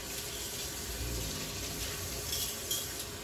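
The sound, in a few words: water running from kitchen tap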